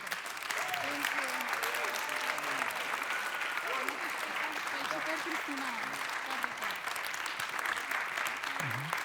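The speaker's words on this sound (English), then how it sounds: "Another big round of applause for the Young Leaders Generation 2019." Sustained applause from a crowd at a diploma ceremony and awards gala, steady dense clapping throughout with some voices and whoops mixed in underneath.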